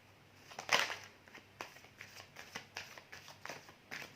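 Tarot cards are shuffled by hand during a personal reading, producing a sharp riffle burst followed by a series of soft, rhythmic card slaps and flicks, close and fairly quiet.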